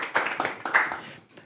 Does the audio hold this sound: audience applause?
yes